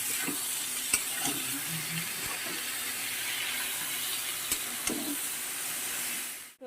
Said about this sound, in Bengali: এবার চিচিঙ্গাটা দেওয়ার পর খুব সুন্দর করে আমি ভাজতে থাকবো ঢেকে ঢেকে আমি ভাজতে থাকবো